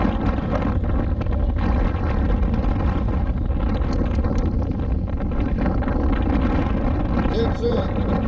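Strong wind buffeting across an open shallow beach with shifting sand, a loud, rumbling gusty roar that dominates throughout, with a voice talking over it at times.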